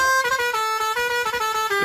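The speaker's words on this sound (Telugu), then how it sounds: "ఇది లారీ సౌండ్" A loud truck horn blares continuously, a harsh, steady multi-tone honk held for about two seconds.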